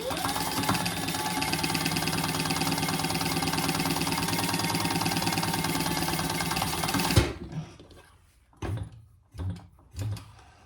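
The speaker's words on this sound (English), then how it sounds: "We're just gonna put a top row of top stitching across the top." A sewing machine top stitching across a handbag slip pocket runs in a fast, steady whirring buzz for about seven seconds, then stops abruptly, followed by a few soft handling thumps and rustles.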